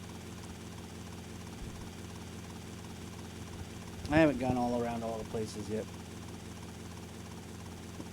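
A propeller plane in the game GTA Vice City drones with a steady low engine hum throughout. Someone talks over it briefly in the middle.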